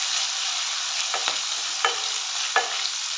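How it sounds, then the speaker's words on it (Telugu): Fresh-pounded ginger garlic paste fries in a pan with a constant bright sizzle, while a spoon scrapes and stirs in three or four short strokes, close up and without talk. "ఫ్రెష్గా దంచి పెట్టుకున్న అల్లం వెల్లుల్లి పేస్ట్, ఇది పచ్చివాసన పోయేంత వరకు వేయించాలి."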